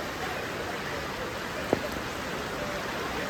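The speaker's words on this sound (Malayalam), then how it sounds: "മഴയും പെയ്യുന്നുണ്ട് ഇപ്പോൾ" Soft, steady monsoon rain in Kondotty, Kerala, hisses evenly throughout, fairly faint and without any voices, with one brief tap partway through.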